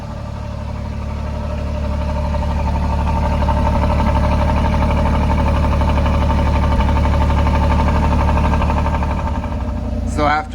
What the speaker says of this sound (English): after about a minute or so of idling, it does smoothen out the sound